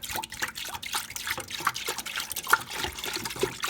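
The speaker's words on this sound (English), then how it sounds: "I pour the milk." Whole store-bought milk pours into a clean Ninja Foodi pot as a soft, steady, bubbling trickle with faint splashes, quiet and close.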